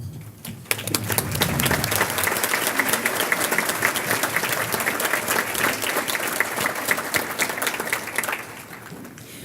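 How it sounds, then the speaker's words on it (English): An audience at an award gala applauds the event committee, a loud, sustained ovation of many hands clapping that builds quickly, holds steady for several seconds, then fades away near the end. "Ladies, would you please stand while we give you a round of applause for your efforts in making tonight possible?"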